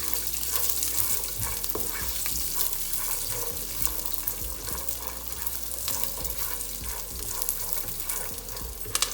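Rice fries in a pot as the first step of making zarda, giving a dense, constant crackling sizzle with stirring scrapes and faint clatter throughout, close and fairly loud.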